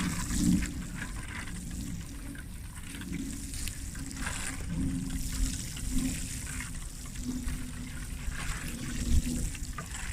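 Water poured onto the soil around a newly planted bare root apple or pear tree outdoors in wet ground, a soft steady trickle and gurgle lasting several seconds at low volume.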